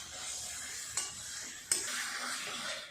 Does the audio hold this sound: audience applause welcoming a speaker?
no